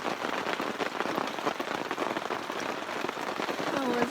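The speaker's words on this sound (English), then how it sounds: "It's pouring rain." Heavy rain pours down steadily and loudly, a dense continuous wash of drops drumming on a surface near a backcountry canoe campsite in Killarney Provincial Park, Ontario.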